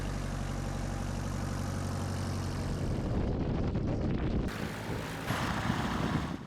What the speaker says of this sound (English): It's just a backwoods, bare bones flying airplane.